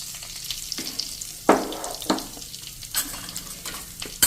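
Asafoetida, a red chili and whole spices sizzle in hot oil while being stirred, a close, loud crackling hiss with sharp bursts as the spoon moves through the pan.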